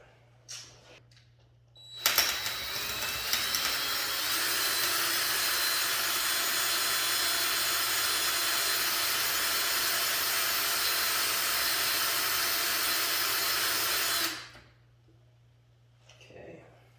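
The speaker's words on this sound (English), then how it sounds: "Have to drill it." A power drill drills out a screw head on a Samsung 65-inch TV, whining loudly and steadily for about twelve seconds, starting abruptly and cutting off, with quiet moments before and after.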